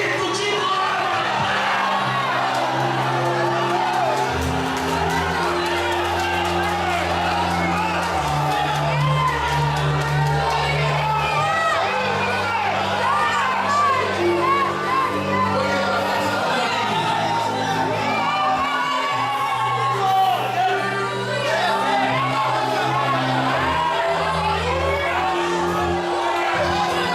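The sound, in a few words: church congregation shouting glory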